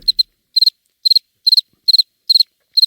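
Crickets chirp alone in crisp, high-pitched pulses, each burst a quick cluster of three or four clicks, repeating at a steady pace of roughly two per second against total quiet.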